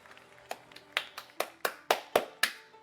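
Hands clap loudly and close, about nine sharp claps in a slightly uneven rhythm that speeds up toward the end.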